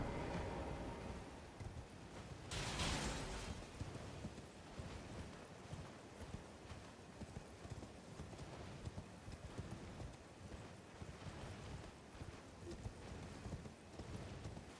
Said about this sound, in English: Get on the horse again.